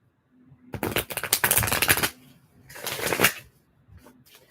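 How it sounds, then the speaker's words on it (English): Tarot cards shuffled by hand in two close, crisp bursts of riffling and flicking, the first longer, separated by a short pause, with a light rustle of cards at the end. "Let's shuffle duffle."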